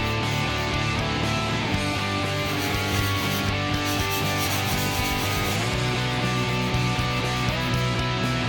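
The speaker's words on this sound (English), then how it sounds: "So I'm going to start out by just kind of spot sanding it." Hand sanding of a Harley-Davidson fuel tank with 600-grit sandpaper, spot sanding the trouble areas with steady, continuous rubbing strokes that are close and fairly loud, with no talking.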